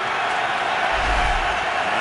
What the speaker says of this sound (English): the crowd responds to the good defensive play